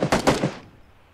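Burst of gunfire in the video game PUBG, three or four rapid loud shots in quick succession, close by, then fading into a quiet tail.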